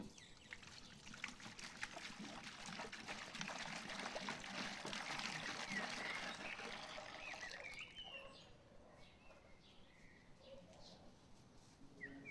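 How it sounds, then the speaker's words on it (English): Three liters of water poured into a clean basin for mixing cement, a soft continuous trickling pour that fills the first two-thirds and then fades to quieter dribbles, with no talking. "I'll start by pouring 3 liters of water into a clean basin."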